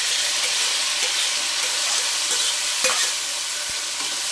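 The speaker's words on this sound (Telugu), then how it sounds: "వేసి మంచిగా వేయించేసుకోవాలి" Tomato and green chili pieces frying in a pan produce a loud, continuous close-up sizzle, with occasional soft scraping stirs of a spoon.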